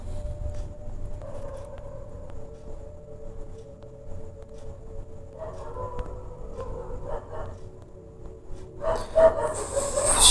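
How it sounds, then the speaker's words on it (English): Several dogs barking and howling in the background, steady and moderately distant throughout, rising louder near the end, with no one talking. "The dogs. I really hate them. They are everywhere."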